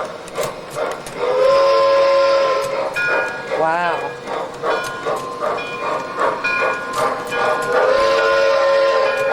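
A steam train whistle sounds loudly at the start and again near the end, with rhythmic chuffing and hiss between as the train pulls out of a station on a family railroad. Someone exclaims briefly.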